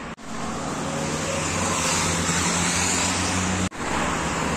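Steady roar of road traffic near a hilly, overgrown footpath in Sofia, Bulgaria, a dense continuous wash of passing vehicles, fairly loud and unbroken apart from a couple of brief dropouts.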